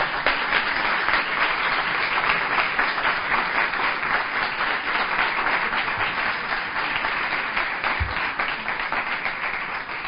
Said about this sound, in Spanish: un fortísimo aplauso para Ana María Vázquez Ois